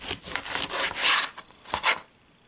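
A knife sawing through smoked tri tip beef in half-inch slices, a series of close rasping back-and-forth strokes in quick bursts, pausing briefly, then two more strokes before falling quiet.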